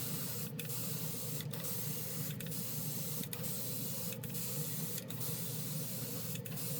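Tamiya light gunmetal paint sprays in a steady, loud, close hiss that runs unbroken, with faint regular ticks about once a second underneath and no talking.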